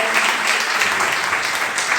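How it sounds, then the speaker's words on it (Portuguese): A church congregation applauds loudly and steadily, a dense wash of many hands clapping at once that stays close and continuous, with no speech over it. "Então aplauda bem forte o Senhor."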